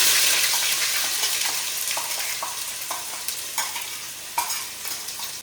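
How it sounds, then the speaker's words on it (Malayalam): Mustard seeds frying and crackling in hot oil in a pan while crab roast is prepared, a steady close sizzle with scattered sharp pops across the whole stretch and no talk. "നന്നായിട്ട് ചൂടായി വരുമ്പോഴത്തേക്കും നമ്മൾ കടുകിടും കേട്ടോ"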